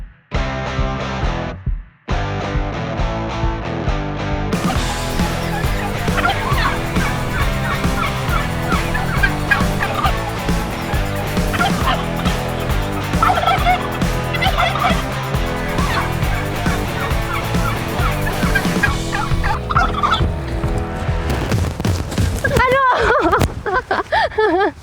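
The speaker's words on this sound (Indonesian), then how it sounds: "Kalkun merupakan binatang yang tidak mudah stres, sehingga bisa dikirim keluar kota dengan aman." Turkeys on a farm in Java gobble loudly and repeatedly in close, rough bursts, layered over one another with background noise and some voices.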